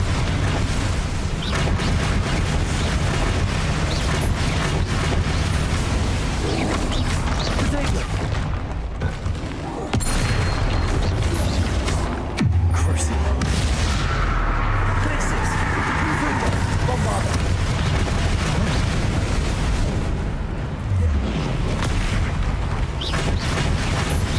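A Bombarda explosion spell in Hogwarts Legacy, a dense, continuous roar of blasts and rumbling booms that stays loud throughout, with heavy low-end impacts and crackling debris.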